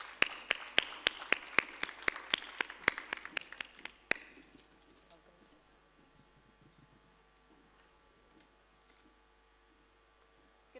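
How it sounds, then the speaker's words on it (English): A short burst of applause at a conference plenary, roughly a dozen distinct loud claps in quick rhythm, stopping abruptly and leaving faint room noise. "A big round of applause for Nicky Marshall."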